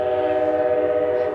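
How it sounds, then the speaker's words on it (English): A close, sustained train horn sounds loudly and holds a steady, multi-toned chord throughout. "There's a train right now. There's a train."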